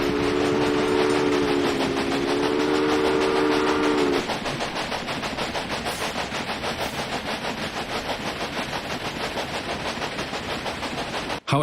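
A train in the video game Railway Empire: a loud, steady rolling rumble with rapid rhythmic clatter, a whistle tone holding for the first few seconds before fading out.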